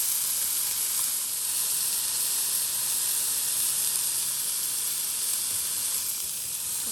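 A pork chop sears in a hot pan, giving a steady, loud, close sizzle that holds evenly for the whole stretch with no voices.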